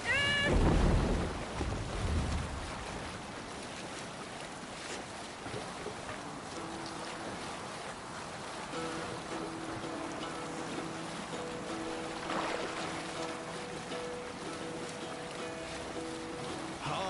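Viking longship sailing in Assassin's Creed Valhalla, water rushing and sloshing against the hull with wind and creaking, a heavier splash at the start and then a steady moderate wash, with some faint tonal game sounds later.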